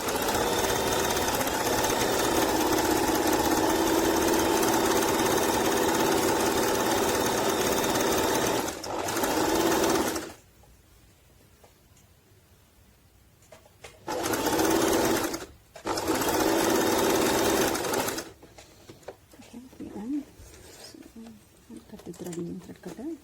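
A Singer Talent 3321 sewing machine runs steadily while stitching decorative stitches, a loud continuous mechanical whir that cuts off for several seconds, restarts in two short bursts, then gives way to quieter handling and faint background sounds.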